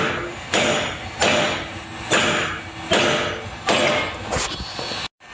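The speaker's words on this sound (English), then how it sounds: "I beat it with a hammer and a chisel" A hammer strikes a chisel against a stuck Pitman arm, six loud metallic blows spaced roughly a second apart, each ringing briefly before the next, then a sudden cut to silence.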